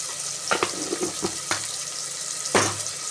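Goat curry sautés in a pan with tomatoes and a pinch of turmeric powder, giving a steady close sizzle broken by a few sharp stirring clacks and scrapes.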